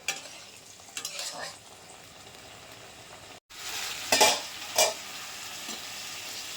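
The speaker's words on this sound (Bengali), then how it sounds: "একটু ফুটিয়ে কষি মাছগুলো দিয়ে দেবো।" Pieces of fish sizzle and fry in a spiced turmeric and chili paste, with steady frying hiss, stirring scrapes, and a couple of louder bursts of sizzle toward the end after a brief pause.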